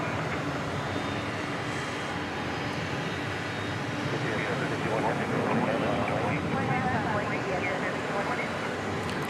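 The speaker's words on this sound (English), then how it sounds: "Here it is. The big 777." A Boeing 777 airliner at DFW Airport rumbles as a broad, steady roar of engine noise at moderate distance, swelling slightly toward the end, with people talking over it.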